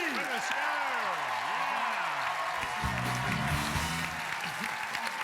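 A studio audience applauds on the Quebec TV game show Ce soir tout est permis, a steady wash of clapping throughout while a voice speaks and exclaims over it.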